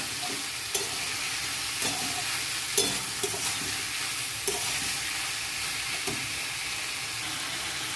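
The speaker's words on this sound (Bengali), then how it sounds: "এতে ভালো করে কষে নেব।" Ginger, garlic, dried chilli and turmeric stir-fried in a pan, a steady close sizzle with scraping spatula strokes and occasional clinks at irregular intervals, no voices.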